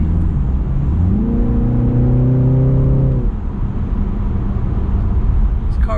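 A 2020 BMW 330i four-cylinder in sport mode revs up with a rising engine tone that holds for about two seconds, then drops back to a steady cabin rumble, loud and close.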